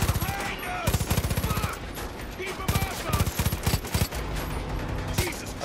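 Far Cry 5 game gunfire in rapid automatic bursts, loud and close, with a player talking over parts of it.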